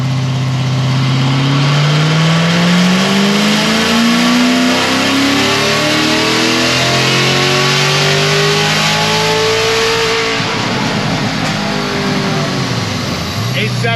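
A Corvette C7 Z06 engine on a dyno roars through a long, rising pull, climbing steadily in pitch, then backs off into lower rumbling and crackling near the end.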